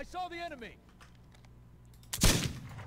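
A single sharp gunshot in a video game, a short loud burst near the end that follows a voice and a stretch of quiet background hum.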